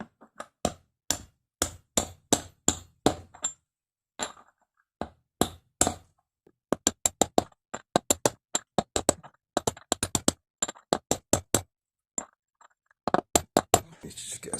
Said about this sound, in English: And then you just want to hammer this down evenly.